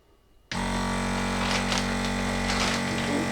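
A vacuum sealer motor kicks on abruptly and runs with a steady, close droning hum as it sucks the air out of a bag, holding an even level to the end.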